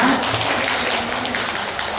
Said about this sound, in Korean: 청명 명예회장님께 다시 한번 박수 부탁드리겠습니다.